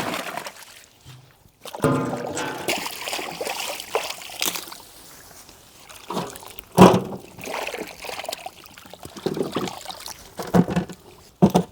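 Vegetables being washed in water, with sloshing and splashing that comes in uneven bursts, fairly close, with occasional soft knocks as the pieces are handled.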